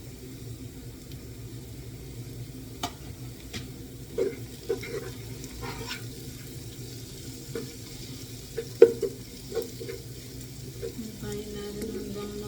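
Chopped garlic and ginger fry in a pan with a soft, steady sizzle as a chicken curry begins, broken by occasional scrapes and taps of a stirring utensil.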